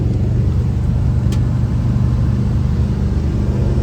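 Steady engine and road drone from inside a 1970 Ford Mustang fastback cruising at highway speed, a constant mid-level hum with no clear shift event heard.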